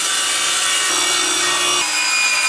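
A saw cuts through MDF board for a subwoofer box, a continuous loud, close rasping drone with no pauses and nobody talking.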